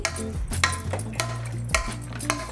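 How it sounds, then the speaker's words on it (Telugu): Repeated scraping and clinking of a utensil mashing cooked vegetables for pav bhaji against a metal pan, close and steady, in uneven strokes. "వెజిటబుల్స్ని అంతా ఇట్లా బాగా మెదుపుకోండి"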